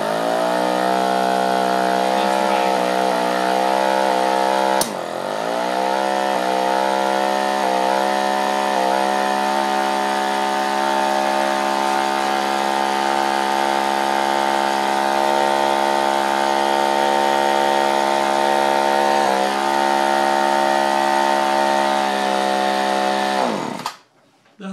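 A string trimmer engine runs on hydrogen (HHO) gas from a 60-plate dry cell, with the hose fed straight into the carburetor. It drones loud and steady for about twenty seconds with small speed wobbles, then dies at the end.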